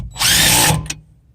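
A power drill driving strut bolts on a 2006 Subaru Forester during strut replacement, one loud sustained whirring burst of about half a second, then a short second pulse before it stops.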